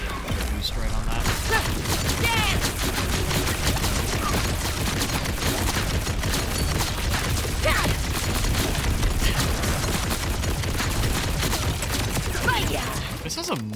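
Sustained rapid gunfire from a high-capacity gun in the Borderlands video game, a dense, loud stream of shots running for the whole stretch with speech mixed in.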